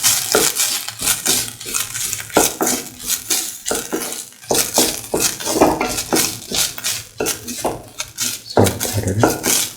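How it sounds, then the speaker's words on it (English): Vermicelli sautéed in a pan, stirred with a utensil that clinks and scrapes against the metal in repeated close strokes over a faint background sizzle, no voices. "Keep on sauteing."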